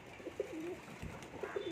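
Young pigeons cooing during homing training, two soft throaty coos heard fairly close against quiet outdoor background.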